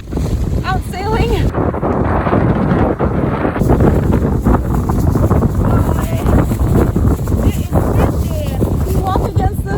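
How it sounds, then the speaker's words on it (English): Strong coastal wind blasts and roars across the microphone in a loud, continuous rush with gusting swells, and voices talk beneath it. "It's getting windy and rainy."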